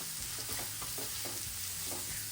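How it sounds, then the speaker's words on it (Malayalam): Chopped carrot, ginger and green chilli are sautéed in a pan over popped mustard seeds. A steady, close sizzle runs throughout, broken by a series of regular spoon-scraping stir strokes, with no talking. "ഇനി ഇതൊന്ന് വഴറ്റിയെടുക്കാം."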